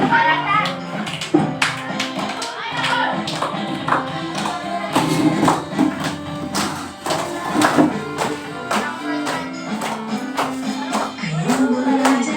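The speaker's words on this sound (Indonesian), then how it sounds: "Berdiri sambil tepuk tangan semuanya." A group of children clap their hands in a quick, steady rhythm, with voices singing and chattering over the clapping.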